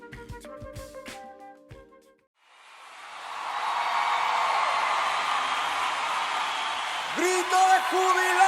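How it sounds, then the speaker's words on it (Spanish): A congregation at a church worship service breaks into a joyful shout. After a brief musical phrase ends, a broad crowd roar swells and holds, with a few higher whoops rising near the end. "¡Grito de júbilo!"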